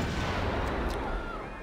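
Artillery units firing in Civilization 5, a rumbling, muffled barrage with a long rolling tail, fairly quiet and distant.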